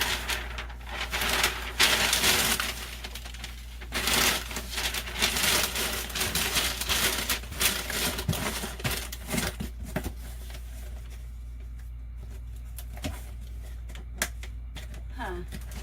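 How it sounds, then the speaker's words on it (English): Loud, irregular crinkling and rustling of paper being handled up close while wrapping items for shipping, in bursts, quieting toward the end. "I know the paper is so noisy"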